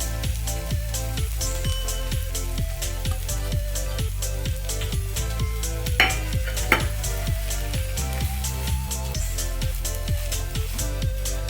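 Chili powder, turmeric, salt, garam masala, cumin and coriander powder are stirred into methi chaman frying in a pan, a steady sizzle with repeated rhythmic scrapes and taps of a spoon against the pan, close and continuous, no talking.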